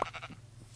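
In a survival island video game, a sheep gives a short, faint bleat that wavers a few times and then fades, with no one talking.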